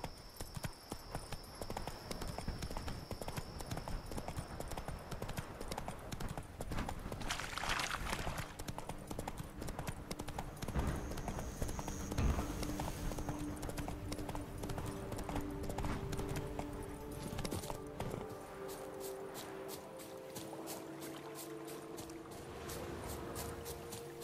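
Roach, a horse in The Witcher 3: Wild Hunt, gallops with rapid rhythmic hoofbeats running through the scene among game ambience and scattered effects, the clopping growing sharper and quicker toward the end.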